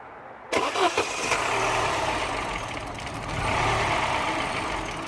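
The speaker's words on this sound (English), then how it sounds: "Let's gonna start the engine again and see what we get." A Mini One 1.4 N12 petrol engine with a stalling fault cranks and catches after a brief silence, then settles into a rough, steady idle with a slight rise in revs, close up and without talk.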